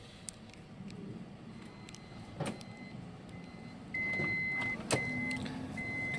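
Power doors of a 2012 Toyota Alphard SR C 2.4i hybrid closing, a quiet motor whir with a steady tone and soft clunks, heard close.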